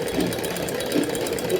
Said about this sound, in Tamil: இப்போ இங்கே எங்கே இருக்கோ அங்கே தைக்கிறோம்.